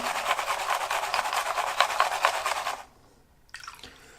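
Water poured off a gold pan during panning, a broad steady splashing pour for under three seconds that stops abruptly, followed by near silence and a brief faint splash.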